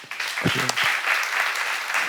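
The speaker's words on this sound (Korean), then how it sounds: "깨달은 사람은 박수 쳐보세요" Church congregation applauding during a sermon, with a short bit of voice at the start before a dense burst of clapping that holds steady to the end.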